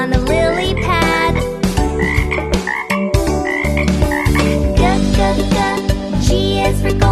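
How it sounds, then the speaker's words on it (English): A frog croaks loudly and repeatedly in a cartoon alphabet lesson for kids, the rhythmic croaks layered over a bright, busy musical backing. "F is for frog. The frog hops on a lily pad."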